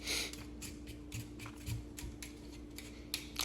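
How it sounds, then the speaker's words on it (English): A potato scraped with a peeler, a series of short dry rasping strokes at a steady rhythm, close and fairly quiet over a low electrical hum, no talking. "Just peel it."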